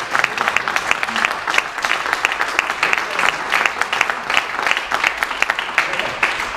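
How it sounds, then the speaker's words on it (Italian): An audience at a percussion festival in Modena applauds loudly and steadily for the whole stretch. The clapping is thick and continuous, with faint crowd murmur underneath. "vi chiedo un altro grandissimo applauso"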